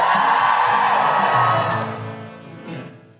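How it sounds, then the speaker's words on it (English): A live audience at a Guilty Feminist podcast recording in Bath cheers and whoops loudly for a second or two, then the crowd noise fades away with a few scattered shouts. "Give us a cheer if you listen to the podcast at home"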